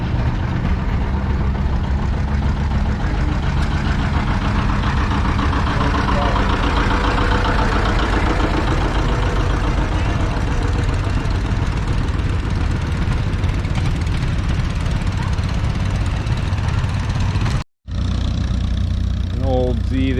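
A Minneapolis Moline Universal tractor engine runs steadily at an outdoor antique power show, a loud, continuous low rumble with a brief dropout near the end.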